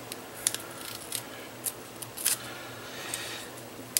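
Metal scissors are picked up from a cluttered crafting table with light clinks and taps, a few small, close, sharp clicks scattered over quiet room tone.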